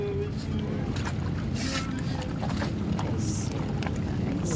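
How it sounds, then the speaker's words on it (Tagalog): A boat moves across water with a constant rushing, wind-buffeted churn, loud and close throughout. "Gumagalaw yung bangka."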